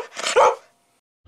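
A dog barks close by, one or two loud sharp barks, followed by a pause and the start of another sound at the end.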